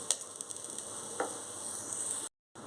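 Mustard seeds and other tempering spices with onion and asafoetida sizzle steadily in hot oil, small crackles and pops in a continuous close frying hiss that cuts off abruptly near the end.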